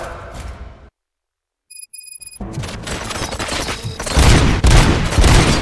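Rapid bursts of gunfire from the RoboCop: Rogue City video game break out after a silent pause, growing louder and denser into a sustained, close fusillade with booming impacts.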